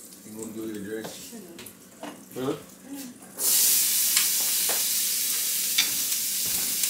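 Peppers and onions hit a hot pan and burst into a loud, steady sizzle that runs on alone after some earlier kitchen chatter, with faint clinks over the frying.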